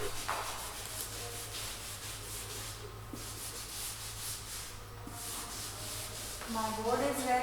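Someone rubs an answer off a classroom board. The soft, continuous scraping and swishing is close and fairly quiet, steady for several seconds with short pauses, and no one speaks.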